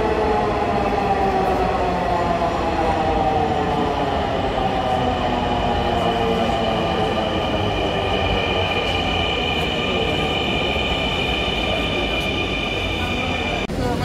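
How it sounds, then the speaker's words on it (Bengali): A Dhaka Metro Rail train pulling into a station, a loud, continuous electric whine and rumble with rising tonal hum and faint wheel squeal, filling the platform. "মেট্রো চলে এসেছে, এবার আমরা মেট্রোর ভিতর প্রবেশ করলাম।"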